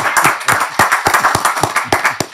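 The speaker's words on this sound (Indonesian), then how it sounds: "sekarang juga saya mohon tepuk tangan" An audience claps in response to a request at a podcast recording, a burst of quick, close, irregular hand claps for a couple of seconds, loud and crisp.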